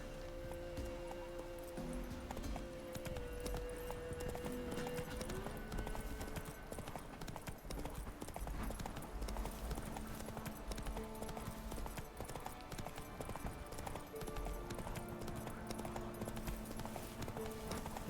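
Hooves of the horse Roach beat in a quick, steady galloping clip-clop inside The Witcher 3, continuous and even throughout, set over a low game soundscape with no talking.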